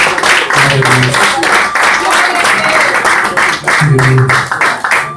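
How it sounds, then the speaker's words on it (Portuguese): A church congregation claps steadily in rhythm during loud worship, the hand claps running throughout under singing and a voice over the sound system. "As palmas louvam e adoram."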